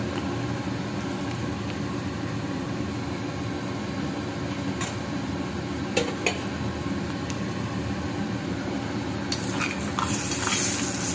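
A steady sizzle of curry leaves and asafoetida frying in hot oil, with occasional clinks and scrapes of a utensil against the pot near the end.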